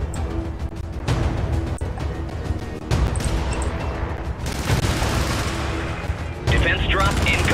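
An automated sentry turret in the video game Helldivers fires sustained rapid bursts, dense crackling gunfire with booming impacts that keeps going almost without pause, loud and close.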